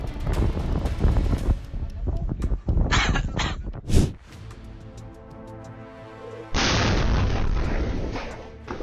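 Explosion at a chemical plant caught on camera: rumbling, wind-buffeted booms and crackling blasts, with a sharp loud bang midway followed by a sustained roaring rush of noise.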